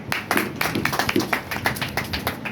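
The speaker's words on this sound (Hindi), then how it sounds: "ताली बजाइए" An audience claps in a business seminar hall, with steady dense clapping running throughout and no voices over it.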